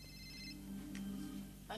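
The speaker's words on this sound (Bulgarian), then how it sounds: "Кой ти звъни?" A mobile phone rings from an unknown number in a dubbed drama scene, a soft electronic ringtone playing quietly through the short moment under room ambience.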